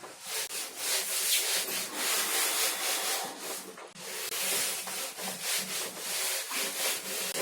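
A whiteboard or blackboard being erased with repeated brisk rubbing strokes, a steady scratchy swishing that stops briefly midway before resuming, close and with no talking.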